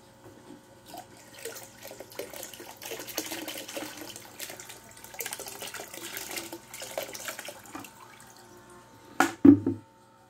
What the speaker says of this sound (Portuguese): Vamos agora despejar elas ali no aquário. Estão todas aqui, ó, dentro do balde.